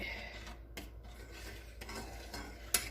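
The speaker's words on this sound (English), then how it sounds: "So stir that real well" Fettuccine alfredo being stirred in a pot, a faint, steady rubbing and scraping of a utensil with a small clink near the end, quiet and close.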